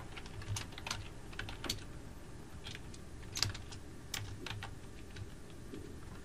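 Faint close typing on a computer keyboard while a file name is entered, irregular light key clicks coming in small clusters with no voices.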